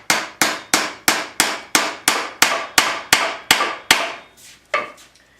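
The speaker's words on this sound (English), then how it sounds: "Take your nail, take your hammer. It's very simple, just hammer it in." Steady hammer strikes drive a nail into wood, about a dozen sharp, loud, evenly spaced blows close by, each ringing briefly before the next, ending with a couple of lighter, irregular taps.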